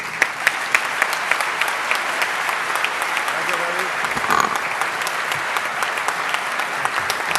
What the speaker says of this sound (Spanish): Recibamos con un aplauso a Ricardo Bona Chavarría.